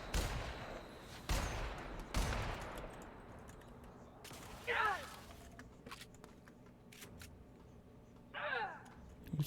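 Sniper fire in The Outer Worlds video game: several sharp gunshots crack in quick succession early on, then a couple of whooshing ricochet-like bursts follow, with quiet game ambience in between.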